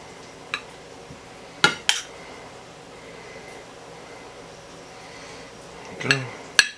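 Couscous being served onto a plate of broccoli, with scattered sharp clinks of a utensil against the plate over a quiet room hum.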